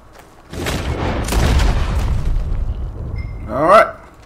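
Heavy booming gunshots in Red Dead Redemption 2, several close blasts in a row followed by a sharp final shot, with someone talking over them.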